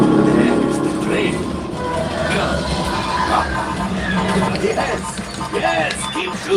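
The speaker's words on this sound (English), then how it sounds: "There's the train." A train rumbles during a Star Wars flight-simulator ride at Disney's Hollywood Studios, a steady low rush mixed with ride effects and voices talking over it.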